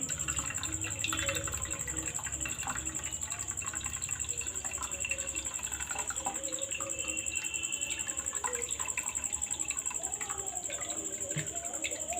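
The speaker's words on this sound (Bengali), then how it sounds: "এবার ওপর থেকে আমি একটু ঠান্ডা জল দিয়ে দেবো যাতে ভিনিগারের যে টক ভাবটা সেটা যেন না থাকে" Cold water is poured over freshly strained chhena (vinegar-curdled milk) while making homemade sandesh, giving a steady splashing, trickling flow at close range with a faint hiss throughout.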